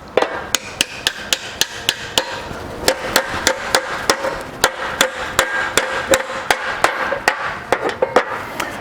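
A hammer pounds on a Chevy/GMC truck trailing arm bushing in loud, sharp metallic strikes, a quick volley at first, then a steady run of blows spaced about a third of a second apart.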